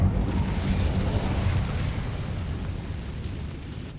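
An Incendio fire spell cast in Hogwarts Legacy bursts out as a loud, rumbling whoosh of flame, strongest at the start and slowly fading over a few seconds with no talk.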